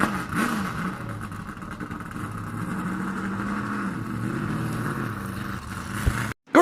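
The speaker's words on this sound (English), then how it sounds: "Drivers, start your engines!" Several NASCAR stock car engines fire up and rumble together at Talladega Superspeedway before a race, a loud sustained roar with rising revs and no talk, cutting off abruptly near the end.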